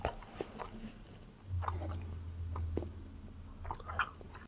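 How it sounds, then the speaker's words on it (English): Slow, deliberate chewing close to the mic: soft wet squishes and occasional bites at an unhurried pace, with a low hum underneath and no talk. "I'm chewing very slowly with intention"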